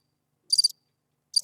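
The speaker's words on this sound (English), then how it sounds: "Crickets." Crickets chirp in two short high-pitched bursts with a pause between them, played as a sound effect from a Rodecaster, crisp and close with no other sound.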